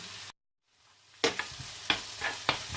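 Onions frying in a pan before chicken breast goes in: after a brief silence, a soft sizzle rises, punctuated by several sharp stirring scrapes, close and fairly quiet.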